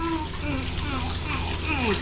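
Hot water runs steadily from a tap fed by a newly installed tankless water heater, a continuous splashing rush heard close under excited voices.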